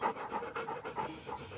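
An excited dog pants rapidly and steadily close by, a quick rhythmic series of breathy huffs with no talking over it.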